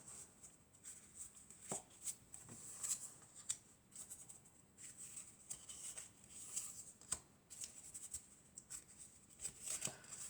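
Tarot cards being shuffled by hand during a reading, giving soft, continuous papery riffles and flutters with occasional sharper slaps, fairly quiet and close with no talking.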